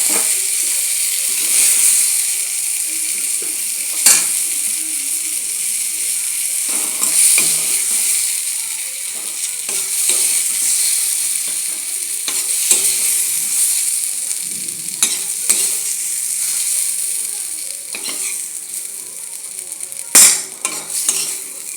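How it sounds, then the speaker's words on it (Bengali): Pointed gourd (potol) slices fry in oil in a kadai, giving a steady, bright sizzle with repeated scraping and clattering as a spatula turns them, close and fairly loud throughout. "আমার পটল ভাজি হয়ে গিয়েছে। আমি এখন নামিয়ে নেব।"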